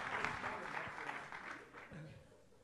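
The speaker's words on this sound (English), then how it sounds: "Can we just get Jordy a round of applause for taking on this project?" Applause from a conference session audience at a Burning Man theme camp symposium, a brief burst of clapping that gradually fades, with voices mixed in.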